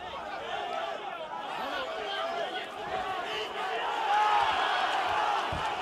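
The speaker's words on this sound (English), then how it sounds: "See the crowd cheering there" A crowd at the Manuel Charr vs Ustinov boxing match roars and cheers, a steady wash of noise that swells toward the end, beneath a commentator's voice.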